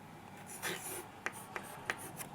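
Pen or marker writing out a physics question on a board during an electrostatics lecture, a few short scratchy strokes with brief taps between them, close and fairly quiet with no voices.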